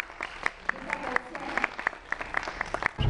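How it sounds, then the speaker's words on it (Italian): A crowd at a web fest in Rome applauds to welcome a guest onstage, a moderate patter of scattered individual claps at middle distance, with voices mixed in. "Accogliamolo con un applauso."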